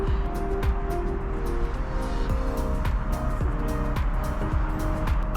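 Busy waterfront city traffic in Oslo, with buses, a train and a double-decker tour bus passing; a steady rumble of engines and tires swells and recedes over several seconds, with repeated low passing whooshes and no talk.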